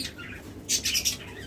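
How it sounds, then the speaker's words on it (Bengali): A hill myna gives a few short, harsh squawks in quick succession, close and fairly loud, with no other sounds around. "এরপর রয়েছে চমৎকার একটা ময়না পাখি"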